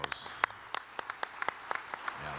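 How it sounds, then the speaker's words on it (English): Sparse, distinct handclaps ring out at a mayors' breakfast as a small group applauds elected officials, school board members and commissioners, each clap sharp and moderately close against a quiet room. "Let us give you a round of applause"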